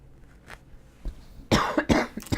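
A person coughs several times in quick succession, loud and close, after a few fainter throat sounds, while sewing drawstring bags from Japanese fabric.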